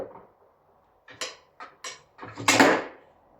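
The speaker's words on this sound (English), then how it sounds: "A bit like with this door closer here." Door closing under a mechanical door closer: a few short clunks and rattles, then a louder latch-and-slam burst near the end, close by and with no talk.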